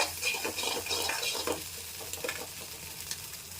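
Egg rice stirred in a frying pan with salt and chili powder, a continuous close sizzle overlaid by fast scraping spatula strokes, busy and fairly loud throughout, with no talking.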